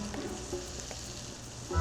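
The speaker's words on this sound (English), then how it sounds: "that's what you want to hear, is that lovely sizzling fat" Lamb rump sizzles in rapeseed oil in a hot pan, a soft, steady crackle and hiss close by with a slight bump toward the end and no talking.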